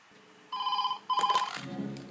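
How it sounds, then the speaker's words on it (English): Phone ringtone set as a morning alarm: a bright electronic two-burst ring with a beat, close and loud, shifting into a rhythmic musical pattern with low tones at the end, no talk. "my morning alarm. Oh, it's got a beat to it."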